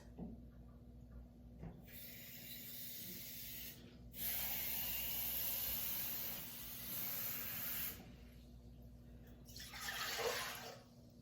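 Water runs steadily from a tap or jug into a 2-cup measuring cup, a soft continuous hiss and splash that swells and eases in several pours, close by and alone without talk.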